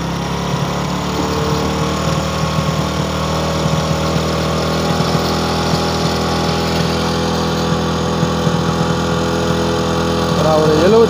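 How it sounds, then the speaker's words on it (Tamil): A motorbike engine idles steadily at close range, a constant low throbbing hum that holds an even pitch throughout, swelling slightly at the very end. "பைக்கை ஸ்டார்ட் பண்ணோன்னே நமக்கு ஐட்லிங் பார்த்திங்கன்னா ஐட்லிங்கில் எத்தனை வோல்டேஜ் வருதுன்னு பார்ப்போம்."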